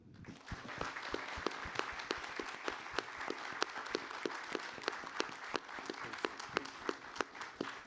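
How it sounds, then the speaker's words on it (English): Audience applause at a panel discussion on gun violence in Brooklyn, a sustained patter of many hands with sharp individual claps standing out near the microphone, somewhat quiet overall. "I want you to all give a warm round of applause to our star,"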